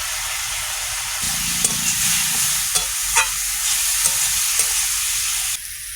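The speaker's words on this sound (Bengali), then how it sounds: "রসুনগুলো দিয়ে দেবো, আমি একটু তেল দেবো।" Garlic frying in hot oil in a home kitchen, a continuous close sizzle and hiss with a few stirring clinks and scrapes, no voices.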